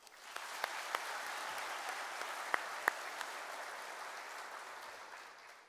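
An audience applauds at the Kansas FFA convention for a chapter's ritual ceremony performance. Steady, moderately distant clapping from a large hall crowd fills the clip, with a few sharper individual claps and no speech.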